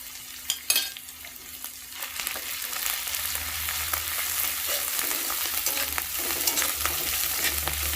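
Turmeric paste sizzles and spits in hot oil for a spicy koi fish curry, a steady close frying hiss with occasional stirring clatter and no talk.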